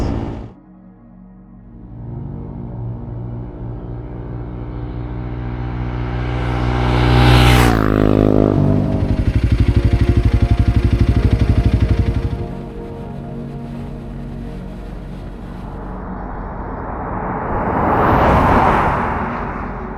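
A Honda CRF 300 Rally motorcycle cruising on an outback highway, its steady engine drone and wind rush rising into a surge with a sharp whoosh midway, then continuing under heavy wind noise.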